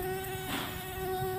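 Flies buzzing over an open-air garbage dump on a street, a steady continuous insect drone with a sustained hum throughout, outdoors with no talking.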